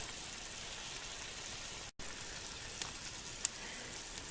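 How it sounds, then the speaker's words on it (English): Beef and onions frying in a pan outdoors over a camp fire, a steady close crackling sizzle that briefly cuts out and resumes, with a couple of sharp pops near the end. "So we got some beef and onions on the frazzle."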